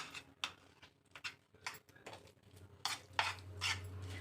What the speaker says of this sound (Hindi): तो अब हम इसको मिक्स कर लेंगे अच्छे तरीके से